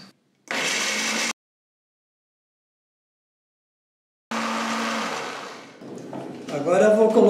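Blender briefly beating four whole eggs to break up the yolks, a short burst of whirring motor, then silence, then a longer run that shifts in pitch near the end.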